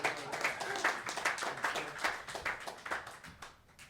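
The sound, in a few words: audience applause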